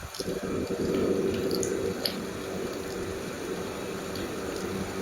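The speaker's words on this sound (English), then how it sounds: "just pour the measured 5 ml of acetone into the suction filter" Liquid, 5 ml of acetone, poured into a suction filter in a lab, giving a soft, brief trickle and splash close by over a steady low hiss.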